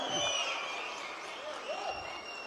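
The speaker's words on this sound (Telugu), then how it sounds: "ఒక్కసారి అందరూ చప్పట్లు కొట్టి కృతజ్ఞతలు తెలియజేయమని కోరుతా ఉన్నా" An audience at an auto drivers' meeting applauds for Chief Minister Chandrababu Naidu, steady crowd clapping at moderate distance with crowd murmur and some loudspeaker tones and echo mixed in.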